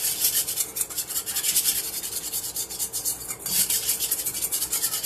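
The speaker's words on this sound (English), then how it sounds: "Then I'm going to stir that up. This little tiny whisk." A small whisk stirs a mixture in a bowl, making quick, rhythmic scraping and rubbing strokes that are close and fairly soft, continuing steadily with no talk.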